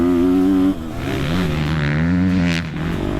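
A motocross bike engine revs hard up through the gears, pitch climbing then dropping at each clutchless shift, loud and close.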